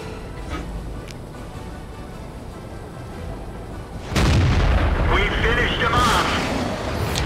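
Tank cannon fire in a video game: a sharp, loud boom lands midway with a rumbling tail, after a quieter stretch of low engine drone and a few faint distant cracks.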